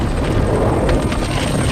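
Aircraft rotor or engine roar in a science-fiction disaster scene, a steady, loud, dense rumble that fills the whole moment without a break, with no voices audible.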